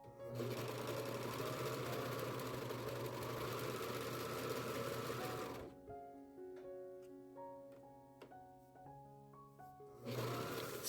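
A sewing machine runs fast along the edges of monks cloth in a loud, steady, buzzing whir for about six seconds. It stops with a quieter stretch of pitched mechanical ringing, then the motor starts up again near the end.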